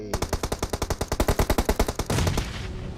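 Automatic gunfire in the BGMI mobile shooter, a fast even burst of about twenty loud close shots in a rapid steady rhythm, then a brief rushing tail as it stops.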